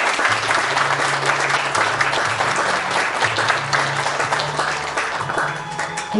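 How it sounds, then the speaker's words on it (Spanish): Steady applause from a crowd at a high school graduation, many hands clapping continuously throughout with no pause, fairly loud and close. "Un fuerte aplauso para Josefa."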